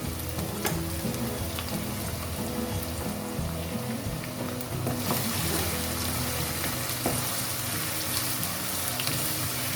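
Steady, loud sizzling of onions and green chillies frying in a pan, a continuous hiss with occasional crackles and stirring noises.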